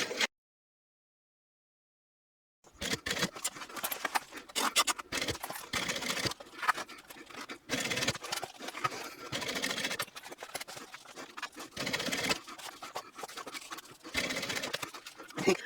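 A sewing machine stitches slowly over a thick seam on a foldable zip backpack, with a hump jumper levelling the presser foot. The machine runs in steady bursts, close and loud, after a short silent gap at the start.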